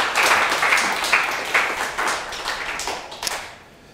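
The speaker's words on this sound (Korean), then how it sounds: "하나님께 박수 한번 치겠습니다." A worship congregation claps in unison, a close, loud burst of rhythmic hand claps that gradually fades out over a few seconds.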